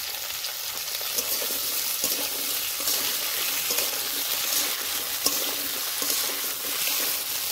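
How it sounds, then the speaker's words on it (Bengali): Potatoes and Malabar spinach stalks fry together in a pan, giving a steady, close, even hiss of sizzling oil that continues unbroken throughout. "এবার আলু আর ডাঁটাটা একসাথে কিছুক্ষণ ভেজে নেব।"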